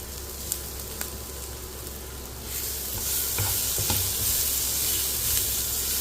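Chicken curry sizzles and crackles in a pan as green chillies are added, with stirring scrapes and a few clinks, the hiss swelling louder partway through and staying strong, close and steady with no talk.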